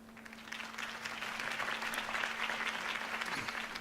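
A large crowd applauds after a political campaign speech in a Batman video game scene, a steady, fairly quiet wash of clapping that builds slightly and holds, with a faint constant hum underneath.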